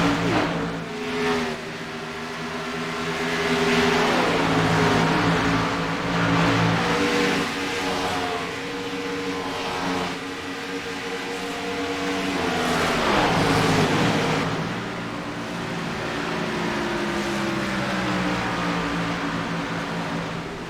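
Race cars circling in a video game race at the Red Solo Cup 180, a steady roar of several engines droning and shifting pitch for the whole stretch, with passes swelling and fading.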